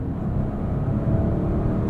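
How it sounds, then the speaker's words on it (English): A 2022 Lincoln Navigator Black Label accelerating through its 10-speed automatic, heard from inside as a steady low engine and road rumble with no distinct shift break, moderately loud with no talk. "We get some pretty nice smooth shifts from this 10-speed auto."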